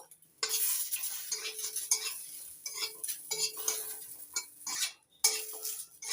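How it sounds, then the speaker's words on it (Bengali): Garlic and chillies frying in a thin film of leftover prawn oil, with a steady sizzle broken by frequent scraping and stirring of a spatula against the pan, close and fairly loud. "লঙ্কার সঙ্গে রসুনটা ভালো করে ভেজে নিচ্ছি"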